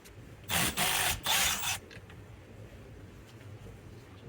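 An impact wrench works the triple-square steering wheel bolt on a 2006-2015 Audi Q7, firing three loud close buzzing bursts in quick succession before falling to quiet background hum.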